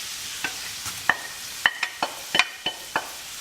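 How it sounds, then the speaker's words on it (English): Spatula scraping through sun-dried tomatoes and spinach in a pan, a series of short, crisp clicks and scrapes spaced irregularly, with a faint sizzle underneath. "Now, I'm going to add my sun-dried tomatoes, the spinach,"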